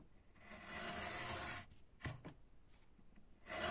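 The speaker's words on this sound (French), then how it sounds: "Je vais utiliser mon cutter et je vais venir" Craft knife slicing through paper, a soft scraping stroke followed by a few short faint cuts and rustles, close and quiet with no talking.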